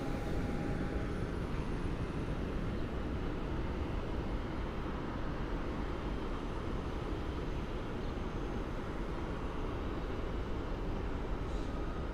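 An Embraer jet departs for Chicago at Cleveland airport, a steady broadband engine roar held at constant loudness throughout, alone without talk.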